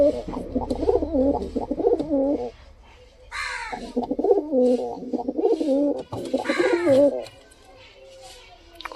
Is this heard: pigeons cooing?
yes